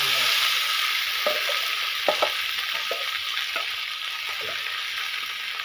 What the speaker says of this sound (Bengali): মশলাটা একটু ভাজি নেবো।